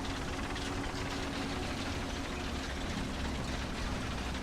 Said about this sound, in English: Can hear another engine on my right there